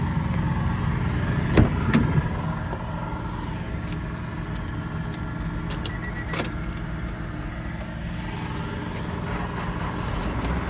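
A Honda Stepwgn van's engine cranks and catches, then settles into a steady close idle with a weak battery, short squeaky belt chirps and clicks sounding over the continuous running drone.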